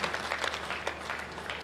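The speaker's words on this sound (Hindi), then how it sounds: "मैं चाहूंगा एक बार उनके लिए सम्मान में जोरदार तालियां" Brief burst of steady audience clapping at a Hindi poetry recital (kavi sammelan), a dense, even patter of many hands with no pauses.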